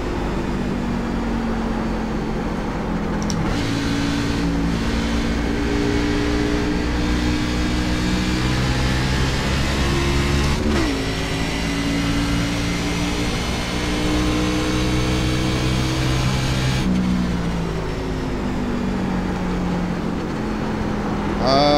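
Simulated race car in iRacing's fixed B-Class at Gateway revs steadily with rising engine tones and repeated gear shifts, a loud continuous drone throughout.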